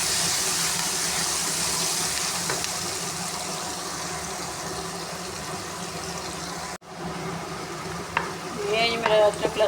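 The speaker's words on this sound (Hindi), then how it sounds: "ये मेरा अदरक लहसुन और हरी मिर्च का पेस्ट भी फ्राई होगा।" A paste of ginger, garlic and green chili fries in a pot for vegetable pulao, giving a steady close hiss and sizzle, briefly cut off, then returning with stirring clatters and bubbling spurts.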